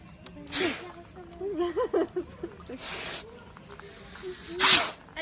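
Several human sneezes burst out one after another, sharp and close with breathy hisses, separated by short gasps and vocal sounds.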